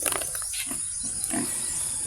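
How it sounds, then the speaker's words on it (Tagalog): A loose pig at a house, grunting and snorting in a few short close bursts over a steady background hiss, with no one talking. "May baboy na nakatakas."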